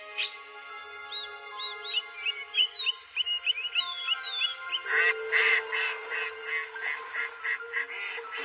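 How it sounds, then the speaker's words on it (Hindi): A flock of cartoon birds chirps and squawks in quick, busy calls, rising to a denser, louder chorus midway and continuing in rapid bursts. "देखो कितनी सारी चिड़िया आई हैं।"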